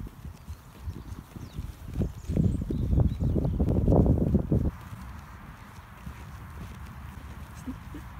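Horse hooves thud and clop irregularly on soft Dartmoor ground for a few seconds, growing louder nearby, then fading to a quiet outdoor background.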